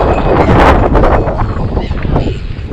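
Strong wind gusting around a sailboat at a mooring, a loud, broad rushing roar with buffeting microphone noise that swells and eases without a break.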